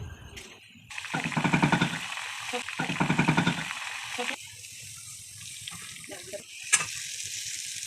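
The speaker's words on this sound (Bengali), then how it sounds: "মা এখানে ফুলকো ফুলকো লুচি ভাজছে" Luchi, puffed flatbreads, fry in hot oil in a home kitchen, the sizzle swelling in loud bursts as dough goes in and is stirred, then settling into softer crackling with a sharp clink near the end.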